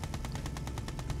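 Gatling gun fire in the game Command & Conquer Red Alert 2: Yuri's Revenge, a rapid, evenly spaced stream of about a dozen sharp shots rattling without pause, loud and steady with no voices.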